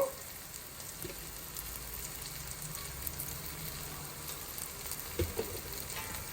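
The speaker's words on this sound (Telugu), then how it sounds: "వేసి కొద్దిగా ఆ ధనియాల పౌడర్ వేగే వరకు కొంచెం అలా ఇలా తిప్పుకొని" Coriander powder frying with onions in a pan for a carrot coconut fry, a steady soft sizzle throughout with occasional faint clinks of stirring, moderately quiet and with no talking.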